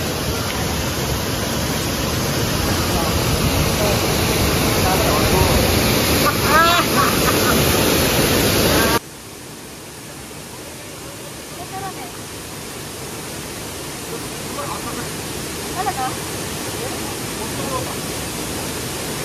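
Lubong Nangoloan falls in San Felipe, Zambales roars as a dense, steady wash of falling water, loud at first and then a bit softer, with faint voices.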